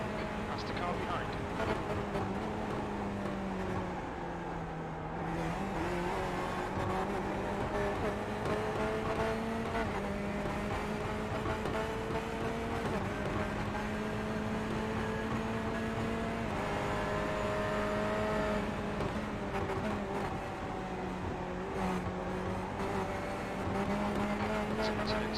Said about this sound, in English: It sounds like it's just off the rev limiter the whole time.